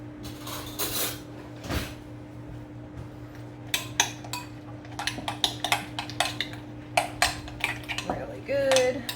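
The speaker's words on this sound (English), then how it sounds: "we're going to mix this up" Metal utensil clinking and scraping against a bowl while ingredients are stirred together, with quick irregular taps and clatters close by, a steady low hum underneath, and a louder burst of clatter near the end.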